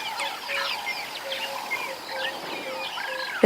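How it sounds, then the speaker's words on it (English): Birds call and cluck repeatedly at a safari dam at sunrise, a steady mix of short chirps and clucking notes at moderate distance with no talking. "There is quite a lot of bird life here this morning."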